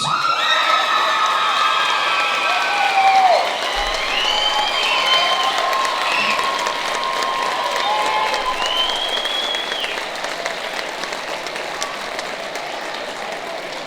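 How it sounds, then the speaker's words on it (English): A school auditorium audience at an eighth grade moving up ceremony applauds a student, with sustained clapping mixed with cheers and whoops throughout, loud and dense. "Another round of applause for one of my favorites, Kayla Cummings"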